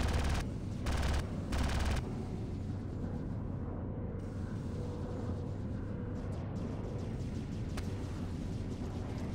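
Sustained automatic weapon fire in the video game Star Citizen rattles on continuously, with a few heavier bursts near the start, dense and loud with no talking.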